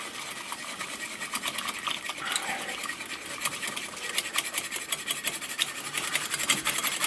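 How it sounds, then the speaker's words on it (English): Continuous scraping and stirring of a thick flour-and-water paste in a pot, a steady rhythmic rasp that grows slightly louder and more pulsing toward the end. "Just going to keep stirring it for a minute."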